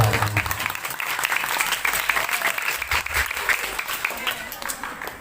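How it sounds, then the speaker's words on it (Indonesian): Audience applause fills a sholawat religious gathering of a women's Majelis Taklim group in Batang Gansal, steady clapping from a crowd lasting several seconds with a voice faintly beneath it. "Kalau mau tepuk tangan aja lah, jangan ragu-ragu."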